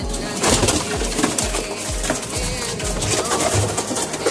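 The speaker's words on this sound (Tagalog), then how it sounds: "Ito na yung mga ibon natin," Racing pigeons coo in a loft, repeated low throaty coos in a steady rhythm, close and fairly loud over a busy background of fluttering and shuffling.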